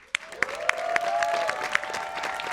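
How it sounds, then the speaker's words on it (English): An audience at a Latino Heritage Month illumination ceremony claps for an honoree, a moderate round of applause with a few sharp claps standing out over a sustained tone and light crowd noise. "Let's give him a round of applause."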